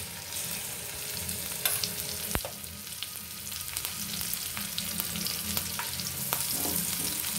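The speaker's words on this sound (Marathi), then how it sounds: "आलं लसूण थोडासा कलर चेंज होईपर्यंत साते करायचं." Ginger, garlic and green chillies sautéing in a hot pan for prawns chilli, a steady close sizzle with occasional stirring scrapes and one sharp clack of a spoon against the pan.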